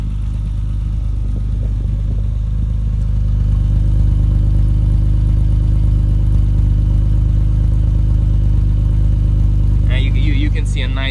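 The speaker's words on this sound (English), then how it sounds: "listen to the exhaust" A 1987 BMW 325ci straight-six idling, heard from behind at the exhaust, a steady deep low rumble throughout with a brief higher clatter near the end.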